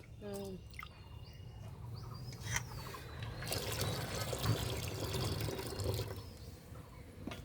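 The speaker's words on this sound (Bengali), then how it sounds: "খুদ ভিজে নিচ্ছে মানে ধুয়ে নিচ্ছে খুদ" Broken rice being washed in water, with a soft watery sloshing and trickling that thickens in the second half, while birds chirp faintly in the background.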